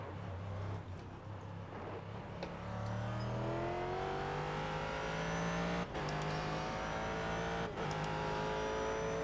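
Race car engine in the iRacing sim, a GT car, loud and close throughout, with rising revs through repeated gear shifts and two sharp breaks where the tone drops and climbs again.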